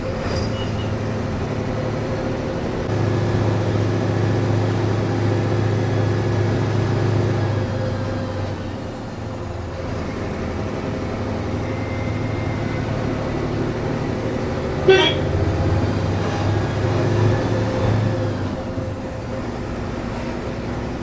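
A bus climbs through a ghat section on the road from Tirupati to Thiruvananthapuram, its engine a steady loud drone with shifting tones and a brief knock midway.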